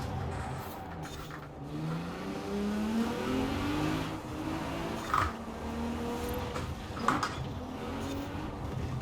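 Audi race car engine in the racing game Forza Horizon 4 during a championship race, revving and shifting steadily with rising pitch sweeps, joined by a couple of brief impact thumps.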